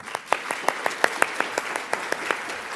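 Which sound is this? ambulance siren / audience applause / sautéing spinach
audience applause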